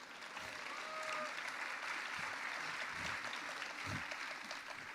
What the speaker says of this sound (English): round of applause for Blitzmensch